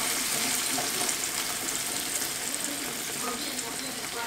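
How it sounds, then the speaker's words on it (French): Tomato purée hitting a hot pan as a utensil scrapes up the browned cooking juices, a dense steady sizzle with scraping and stirring throughout, close and fairly loud. "Je vais ajouter ma purée de tomates. Hop, je vais bien gratter pour récupérer les sucs de cuisson."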